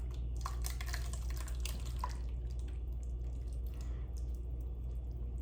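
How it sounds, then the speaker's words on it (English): A liquid mac and cheese mixture is poured into a sprayed baking pan. It makes wet, dripping, splashing sounds, busiest at the start and then thinning out, with no voices. "Next, we're going to pour our mixture in here"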